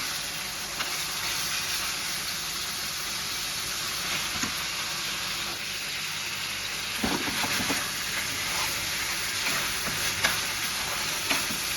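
Minced mutton kheema frying in a pan, a continuous steady sizzle with occasional scraping stirs and small clatters, heard close up and alone without talk.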